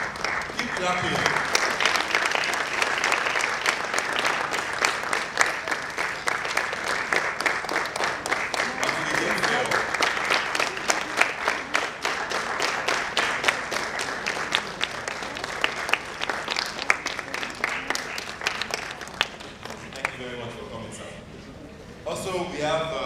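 At a spelling bee competition, an audience gives sustained applause with dense, rapid clapping that carries on for about twenty seconds before thinning out and stopping near the end, a voice heard faintly beneath.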